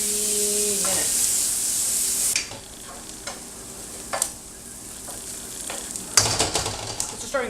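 Shallot frying in melted fat in a pan on a gas stove, a steady broadband sizzle that drops quieter partway through, with a few sharp stirring scrapes and clicks near the end.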